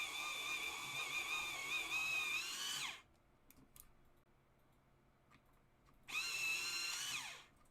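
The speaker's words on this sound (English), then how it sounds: "I'm going to grab my darker of the cold grey, I'm just going to sharpen it." A dark cold grey colouring pencil is sharpened in an electric sharpener, giving two loud, steady whirring bursts of about three seconds and one and a half seconds, with a quiet pause between them. The pencil is being sharpened for drawing a colourful tiger.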